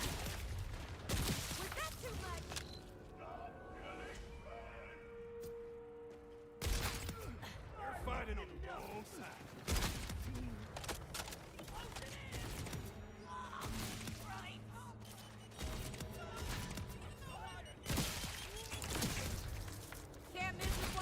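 Rapid automatic gunfire in a loot-farming shooter video game, several sustained bursts emptying the magazine, loud and close, with breaks between the bursts and mechanical reload clicks.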